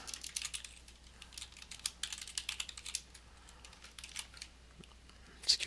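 Someone types on a computer keyboard in bursts of crisp, uneven clicks separated by brief gaps, nearby and soft against a faint background hum, with no voices.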